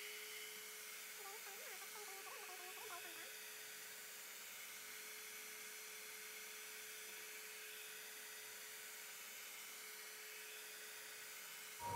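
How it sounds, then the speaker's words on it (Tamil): An ordinary household hair dryer drying damp watercolor paper gives a steady, even whir that holds for the whole stretch, with a few brief faint tones early on. "ஸோ இது நார்மலாக நம்ம வீட்டில் யூஸ் பண்ணுற ஹேர் ட்ரையர் தான் எடுத்திருக்கேன்"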